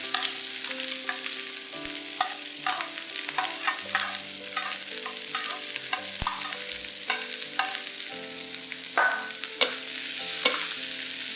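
Ginger, garlic, onions and white spring-onion parts stir-frying in hot oil for a chicken stir fry, a steady close sizzle with frequent scraping and clinking stirs of a utensil against the pan throughout, no voices.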